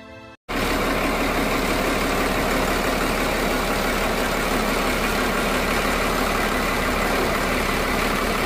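A launch boat's engine runs steadily in its engine room on a Sundarbans river cruise, a loud, continuous low rumble with a dense broadband drone that starts after a brief pause and holds without change.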